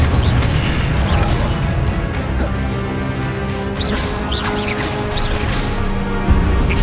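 Incendio fire spell blasts in Hogwarts Legacy come as repeated bursts and booms over a busy combat soundscape, loud and close, with crackling highs and sweeping whooshes near the end.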